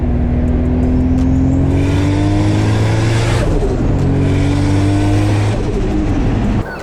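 Turbocharged Nissan Skyline with a JZ engine accelerating hard, loud and close, engine note rising through the gears, dropping briefly at a shift and climbing again.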